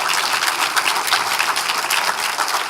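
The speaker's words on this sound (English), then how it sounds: "Let's give these guys a round of applause." An audience at a Dallas mayoral candidate runoff forum applauds, a dense, even burst of many hands clapping that is loud and continuous throughout.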